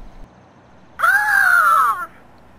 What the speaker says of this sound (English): Caw refers to the sound made by a crow.